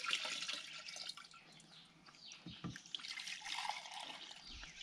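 Liquid herbicide or additive dumped from a small measuring cup into a 15-gallon field sprayer tank outdoors, a soft trickling and splashing pour with a few drips, fairly faint.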